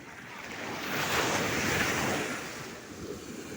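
Sea waves roll in at Alappuzha beach in Kerala, a broad rushing surf that swells to a peak mid-clip and then eases, with wind buffeting the microphone and no voices.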